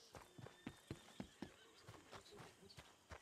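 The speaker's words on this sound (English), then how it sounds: "Catch the horsey, come on." Horse hooves clip-clopping with neighing and whinnying in Red Dead Redemption 2, faint and somewhat distant, irregular hoof falls under a steady game soundscape.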